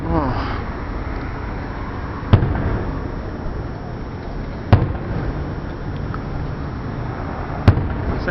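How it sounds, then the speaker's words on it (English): A 4th of July fireworks show sends three sharp booms at irregular intervals over a continuous rumbling background, with faint voices in the mix. "Hey Brian, are you watching this fireworks show?"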